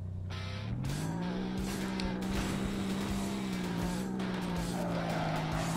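Car engine in the racing game Earn to Die 2, revving up and holding a steady loud drone as it accelerates, with skidding and rough scraping on top.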